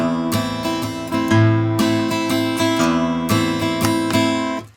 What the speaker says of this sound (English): That strumming pattern works pretty much throughout the song.